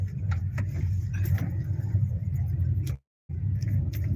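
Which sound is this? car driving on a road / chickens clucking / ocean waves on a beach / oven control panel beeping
car driving on a road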